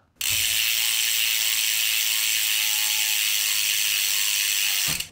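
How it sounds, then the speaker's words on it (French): A bicycle freewheel hub ratchets loudly and steadily, a dense, continuous buzz of pawl clicks from a coasting wheel that starts abruptly and cuts off at the end, with no talking over it. "c'est un peu le système normal qu'on a l'habitude d'entendre, mais qui est vraiment très bruyant"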